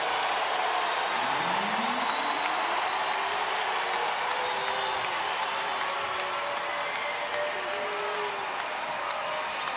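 A sellout crowd at a UConn vs. Baylor NCAA women's basketball second-round game fills the arena with a constant wall of cheering and applause, with a few rising whoops and howls over it.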